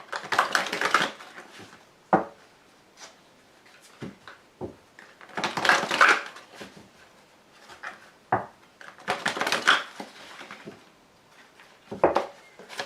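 Tarot or oracle cards are shuffled and handled, with bursts of papery slapping and riffling in three separate clusters, plus scattered light taps and clicks in between.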